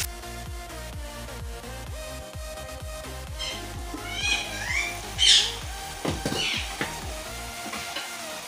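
Masala spices fry in a pan for poi saag, making a steady sizzle under a rhythmic backing track, with squeaky stirring scrapes and brief bright hisses in the middle.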